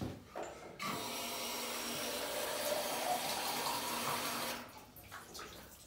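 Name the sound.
water pouring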